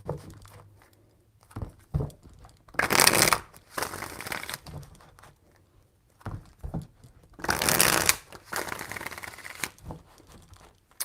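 Tarot cards shuffled repeatedly, crisp riffling and papery crinkling in several bursts, two louder riffles standing out, close by and with no talking.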